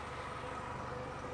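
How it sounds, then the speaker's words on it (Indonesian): A 2008 Nissan Serena C24 with automatic transmission idles with a smooth, even, low hum heard quietly at a distance, with no knocks or rough notes and no voices. "Suara mesinnya halus sekali."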